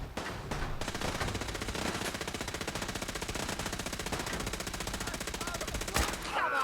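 Rapid, continuous gunfire in the video game Fallout 4 runs as a dense, even stream of shots for most of the clip, loud and close, ending in a sharper report near the end.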